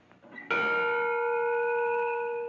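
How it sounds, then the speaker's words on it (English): A single bell is struck once, a clear close ring with a sharp attack that then hangs in a long, steady sustain, fading only slightly over a couple of seconds after a little faint background noise. "let's ring the bell for humility"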